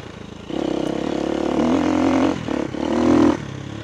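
A dirt bike climbing hills revs hard and close, the engine rising in two strong bursts with a short dip between them, alone with no voices.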